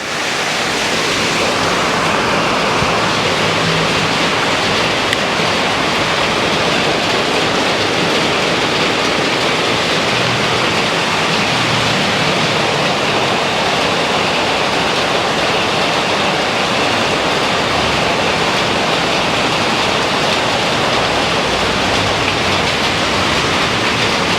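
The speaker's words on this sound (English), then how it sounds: "Hopefully the rain won't last for too long." Steady heavy rain pours outdoors at Jomtien, Pattaya, a dense continuous hiss at constant loudness from start to finish, with no voices.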